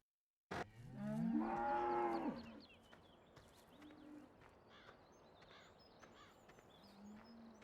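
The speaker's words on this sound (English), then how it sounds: "And let's just hop over to the cows here quick a minute." Cow in Farming Simulator 17 giving one loud, close moo, followed by quieter distant lows and faint bird-like calls over a low farm ambience.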